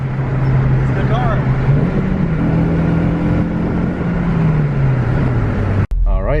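A Honda Civic Si drives along with a steady, droning engine and road noise throughout, its pitch rising and falling gently, while people talk inside the cabin; a sharp thump near the end cuts the sound briefly.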